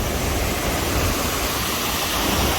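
Aysgarth Falls in the Yorkshire Dales roars as a loud, continuous broadband rush of falling water heard up close at the lower force, with no voices.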